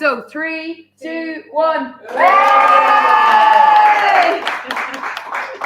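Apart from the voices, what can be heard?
audience cheering and clapping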